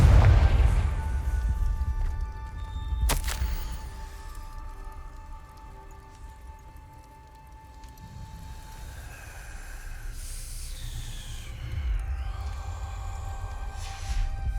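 A Confringo explosive spell cast in Hogwarts Legacy, a sharp blast with a booming low rumble, followed by crackling debris and a lingering ambient hum.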